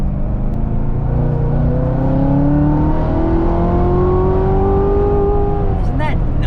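A Corvette Z06 accelerates hard out of a corner, its engine note climbing steadily in pitch through a long rising pull, loud and close, with a person talking over it.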